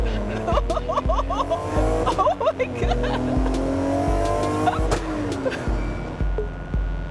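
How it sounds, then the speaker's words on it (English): A car drives hard with repeated tire squeals and engine revving, loud and close, with brief exclaiming voices over it. "The way this car vibrates does not feel safe to me."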